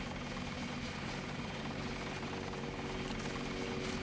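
A helicopter lifting off in a video game mission, its engine roar and rotor thrum steady and loud throughout with no speech over it.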